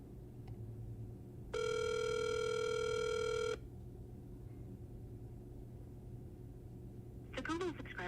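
An unanswered phone call sounds a single steady ring tone lasting about two seconds, followed by a quiet line and a faint voice at the end.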